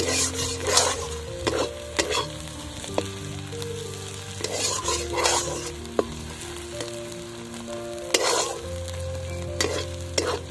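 Spinach greens frying in a pan with chili powder, stirred with rhythmic scraping strokes over a constant crackling sizzle, with a low hum underneath and close, clear spatula knocks.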